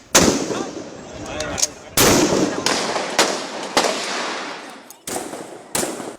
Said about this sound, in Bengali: ভারী অস্ত্রশস্ত্রে বৃষ্টির মতো গুলি ছোড়া হয় নিরীহ ছাত্র জনতার উপর